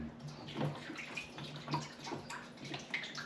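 Liquid lawn treatment being poured into a container, a soft, faint trickle and splash with small gurgles.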